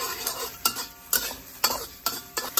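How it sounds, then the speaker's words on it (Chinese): Hard scraping strokes of a spatula push sauce with fermented bean curd, rock sugar and white sugar around a pan over low heat, a steady uneven series of loud scrapes with a faint sizzle beneath, and no talk. "用小火推酱啊，就这样推酱啊，不停的推，炒出香味。"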